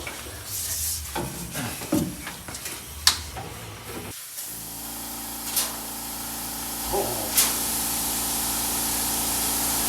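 Compressed air hisses out through the fuel line of a barn-find VW Beetle, first in short spluttering bursts, then as one steady loud blast with a few sharp pops over it.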